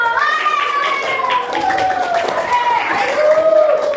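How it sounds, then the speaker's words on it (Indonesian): A classroom of students clapping together for a group, a steady dense patter of hands close by with children's voices and chatter mixed through it. "Tepuk tangan untuk kelompok 1."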